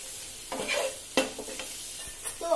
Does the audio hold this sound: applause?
no